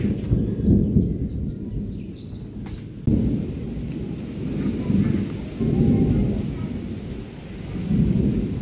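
Rain falling during a thunderstorm at a house, with heavy rolling rumbles of thunder swelling and fading in several waves under a steady wash of rain.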